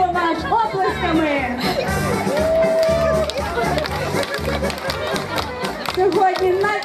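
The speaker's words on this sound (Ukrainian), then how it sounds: "Зустрічаємо вас оплесками." Audience clapping to welcome college graduates at a graduation ceremony, rhythmic applause mixed with loud crowd chatter, music and voices, fairly loud and continuous.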